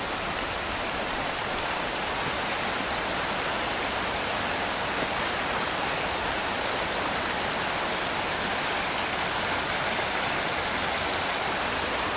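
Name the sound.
flowing river water at Ness Islands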